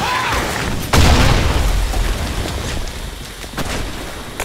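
A grenade blast in the online shooter Blackshot, one loud booming burst near the start that rolls off over a few seconds amid noisy game action, with a second smaller thump later.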